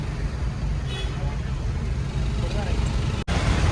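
Congested road traffic near a temple in Pune, a constant low rumble of idling and creeping vehicles heard from close by, with faint horns and talk over the steady drone.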